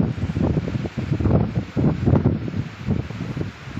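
Steady wind blows outdoors in a Konkan village, a continuous broadband rush of gusts buffeting the microphone at fairly high level, with no voices.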